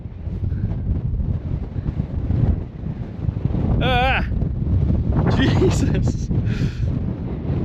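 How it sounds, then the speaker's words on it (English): Strong gusting wind buffets the microphone on the roof of a parked Jeep on an offroad mountain top, a loud continuous roar with a whistling tone and a short spoken exclamation over it. "I wish the wind wasn't as bad because I'm getting blasted."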